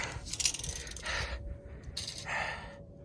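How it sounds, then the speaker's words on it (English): A tape measure is pulled out to measure a transfer box in a workshop during a BMW Mini 2.7 bi-turbo rear-wheel-drive conversion, giving bursts of metallic rattling blade extension with short pauses between pulls, close and moderately loud. "let me get the tape measure a bit longer"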